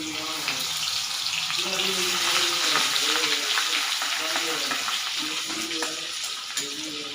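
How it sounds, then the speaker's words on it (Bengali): Garlic fries in plenty of oil with black mustard seeds for a Bengali katla fish curry, giving a steady close sizzle throughout with faint scraping and clinking from stirring. "দিয়েছি রসুন রসুনটা একটু ভাজা হয়ে গেলে ভাজা হয়ে গেছে"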